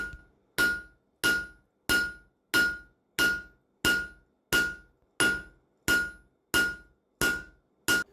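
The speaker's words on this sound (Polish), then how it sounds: "możemy zacząć rozkuwać rąby młotka wzdłuż materiału, czyli nie w poprzek" A blacksmith's hammer forges a garden hoe blade, striking metal in a steady series of about twelve loud, ringing blows spaced roughly two thirds of a second apart, each with a bright metallic ring, close up and without talk.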